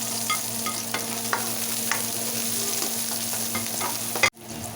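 Chopped onion and garlic hiss and crackle in hot oil in a pan while a utensil scrapes and stirs through them. The steady close sizzle carries light stirring clicks, then cuts off abruptly near the end.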